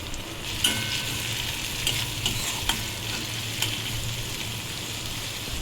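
Spices and melon seed paste sizzle and fry in a pan for fish curry, under steady stirring with occasional sharp scrapes, close and moderately loud throughout.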